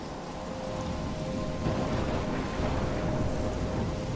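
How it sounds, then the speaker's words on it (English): Heavy rain pours steadily onto surfaces during a storm in the video game Life is Strange, with low thunder rumbling beneath a dense, continuous hiss, close and loud throughout. "I'm trapped in a storm?"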